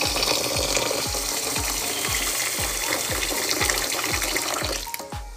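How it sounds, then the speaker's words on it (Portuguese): Rice being rinsed under a running kitchen tap while cooking dinner: steady, close running water with a regular rhythmic sloshing pulse about twice a second, tapering near the end. "aqui o arroz, eu costumo lavar ele"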